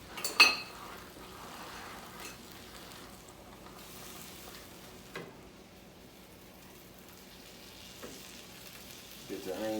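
Onions and mushrooms fry in melted butter in a pan, giving a low, continuous sizzle. A few sharp utensil clinks and scrapes come up close now and then.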